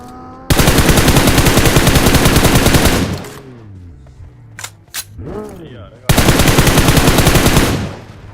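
Battle royale video game fight: two long bursts of rapid, loud automatic gunfire separated by a short gap filled with sweeping game effects and a few single shots.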